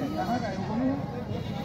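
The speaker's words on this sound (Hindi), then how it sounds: "आपको भेड़ दिखाते हैं।" Sheep bleat at a busy goat and sheep market in Mungeli, Chhattisgarh, a wavering cry rising over steady crowd chatter and market noise.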